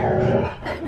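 A husky dog makes playful, growl-like rumbling noises up close during rough play, a brief throaty grumble that trails into a softer whine.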